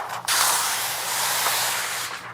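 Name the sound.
spray bottle spraying paint protection film on car hood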